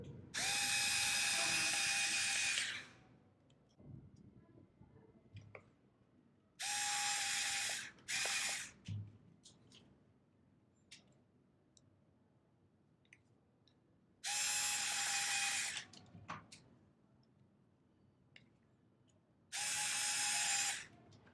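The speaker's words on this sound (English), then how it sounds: "Then we can use the screws to fix the board onto the body." An electric screwdriver drives small screws to fix a circuit board onto the body of a Petoi Bittle robot dog, four loud whirring bursts a few seconds each, close up, with quiet handling clicks between them.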